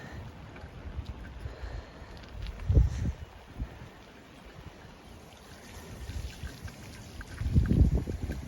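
Storm Ciaran floodwater rushes across a road fed by an overflowing gully, a steady broad wash of running water with gusting wind buffeting the microphone and two louder surges.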